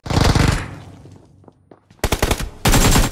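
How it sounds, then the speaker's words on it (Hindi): Gunfire in a shooter video game, loud close bursts of rapid automatic shots at the start, then a quieter lull with scattered distant sounds before two more sharp bursts of rapid fire near the end. "अभी जस्ट इन्होंने फायर किया"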